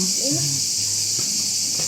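Crickets chirp in a loud, steady, high-pitched drone throughout a short outdoor moment in the early afternoon, while a voice speaks briefly over the continuous insect noise.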